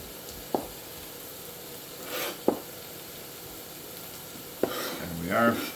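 A knife slices baby zucchini on a cutting board, with three distinct thuds of the blade striking wood spaced a couple of seconds apart and soft scraping between them, close and moderately loud.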